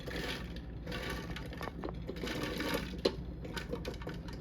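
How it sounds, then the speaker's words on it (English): Prunes ground up in a kitchen grinder while preparing a Barbados Christmas fruit cake: a steady, close motor whir with a rattling, buzzy edge and one sharp knock near the end, with no talk. "I am going to put some of them in here to grind them up."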